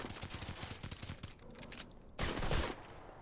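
Rapid bursts of automatic gunfire in a mobile shooter game, a fast rattling string of shots that pauses briefly before a louder, denser burst near the end.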